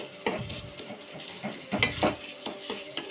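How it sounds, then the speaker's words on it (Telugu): Cauliflower pieces fry in hot oil with salt in a pan, stirred with a utensil: a steady low sizzle under repeated scraping and clinking strokes, close and moderately loud, with no talking. "సాల్ట్ వేసి బాగా మిక్స్ చేసి దీన్ని ఒక 2 మినిట్స్ బాగా ఫ్రై చేసుకోండి ఆయిల్లో."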